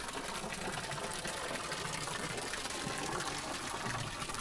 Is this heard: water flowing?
yes